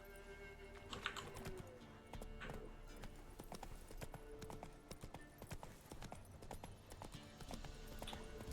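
Roach, Geralt's horse in The Witcher 3: Wild Hunt, gallops steadily, hooves clattering in a quick continuous rhythm over ambient game sound for the whole stretch.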